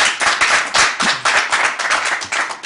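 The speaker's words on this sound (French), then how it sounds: "On peut applaudir très fort encore une fois" An audience claps in a short burst of applause, many hands beating in quick, dense, irregular rhythm, near and loud throughout without speech.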